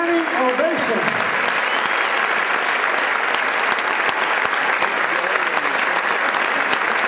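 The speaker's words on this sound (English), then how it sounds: "stand up! standing ovation" A large audience at a martial arts awards show applauding in a standing ovation, dense continuous clapping throughout with a voice heard briefly at the start.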